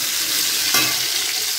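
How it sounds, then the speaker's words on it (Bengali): Tomato pieces frying with ginger paste in a pan for a vegetarian khichuri, giving a steady, close sizzle with a brief stirring scrape near the middle. "দিয়ে টমেটোটাকেও কিন্তু ভালোভাবে ভেজে নেব।"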